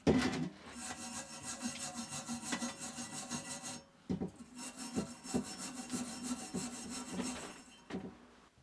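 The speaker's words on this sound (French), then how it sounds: "Et ensuite on vient tout simplement nettoyer avec la brosse." A wire brush scrubs welding slag off a steel compressor tank during barbecue fabrication, producing steady, harsh scratching strokes with a brief pause midway and a few sharper knocks.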